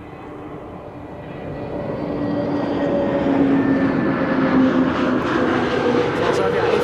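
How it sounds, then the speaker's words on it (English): A Transavia Airbus A321neo airliner arriving at Amsterdam Schiphol on a frosty winter day passes by with a broad engine roar that swells steadily and stays loud, a faint rising whine running through it. "Transavia A321neo arriving from Rabat, passing by just now. You'll have heard that on the microphone just now."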